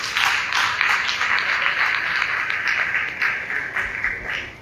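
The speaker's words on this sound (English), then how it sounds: "I think he deserves a round of applause." Applause from a conference audience at a keynote session, a bright, sustained wash of many hands clapping, loud and even with small swells, and no voices over it.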